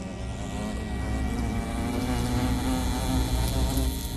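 Housefly buzzing close by, a steady droning whine with a sustained hum that wavers slightly in pitch, continuous and alone for the whole stretch.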